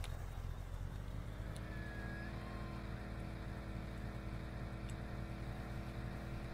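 A truck engine in The Long Drive game pulls steadily under acceleration with its turbo not kicking in, a continuous low drone and harmonic whine holding throughout with no pauses.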